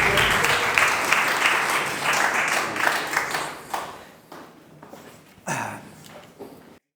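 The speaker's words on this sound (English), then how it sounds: "Let's give a round of applause for Neil." Audience applause at a post-swim interview event, a dense burst of clapping that fades out after a few seconds into scattered claps and quieter room noise.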